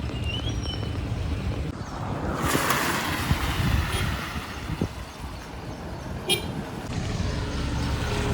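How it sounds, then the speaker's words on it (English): Road traffic passing behind a pedestrian on a congested route to a college, a steady rumble with a louder vehicle sweeping by midway, buffeted by wind noise. "Look at the traffic behind me."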